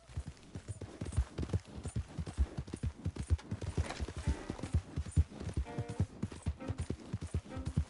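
A horse gallops in Red Dead Redemption 2, hooves drumming in a fast, steady clip-clop rhythm that stays close and fairly loud throughout, with no talking over it.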